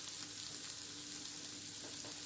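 Onions frying in a pan for Philly cheesesteaks, a steady soft sizzle running evenly throughout at low volume, with no talking over it.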